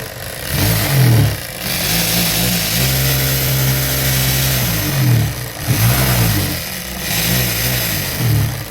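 A Mitsubishi sewing machine, just repaired after an oiling fault, runs in steady motorized bursts with a humming whir that speeds and slows, pausing briefly between runs, close and fairly loud.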